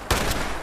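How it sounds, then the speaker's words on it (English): A shotgun blast in Fallout 76 during a swamp event against a Mirelurk Queen: one loud, sharp, close report that decays into a lingering rumble, with no talk over it. "The shotgun is actually not too bad."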